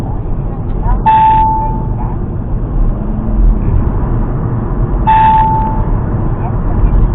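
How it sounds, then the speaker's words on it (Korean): Hyundai Avante car navigation alert chiming twice, a few seconds apart, each a short bright tone over steady road and engine rumble inside the moving car. "이거 이거 지금 내비게이션인데 신경 안 쓰셔도 됩니다"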